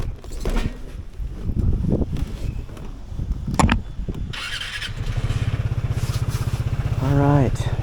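A Vespa GTS 300 scooter starts with a squeal and settles into a steady engine drone as the ride begins on a hot day, with wind rush and someone talking over it.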